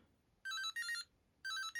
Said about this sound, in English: So there's the alarm